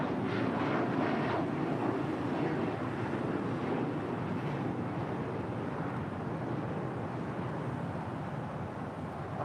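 An Emirates A380 airliner taxiing at LAX gives a low, distant rumble with a soft engine hiss, steady and fairly faint, mixed with some wind noise on the microphone and no voices.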